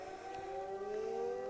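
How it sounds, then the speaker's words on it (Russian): Civil defense sirens wail in a steady, sustained drone during a weekly Wednesday test at three o'clock near a military parade ground, distant and unbroken with no voices. "сирены. Это какая-то тут проверка у них по средам."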